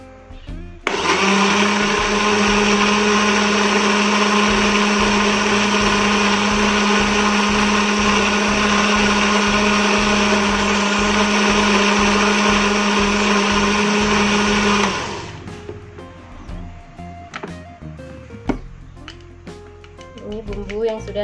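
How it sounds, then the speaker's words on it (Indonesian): A kitchen blender grinds turmeric and coriander into a cooking paste, roaring loud and steady at close range for about fourteen seconds before cutting off, followed by quieter clinks and handling noises. "Kemudian kita blender kembali."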